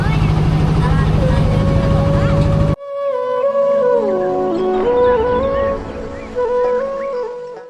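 An engine boat on the Jamuna River makes a loud, close, droning motor roar for the first few seconds. The roar then cuts away to quieter, tonal background sounds.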